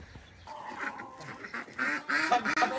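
Ducks quack in a tent-style backyard coop, a run of short nasal calls that builds and grows louder and busier toward the end, with no talking.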